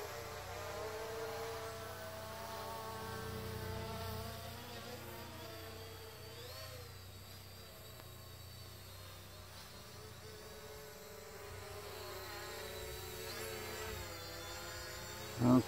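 A Fimi drone hovers and descends to land outdoors, its steady rotor whir and buzzing hum continuous and moderately distant, with faint harmonic tones shifting slightly as it comes down.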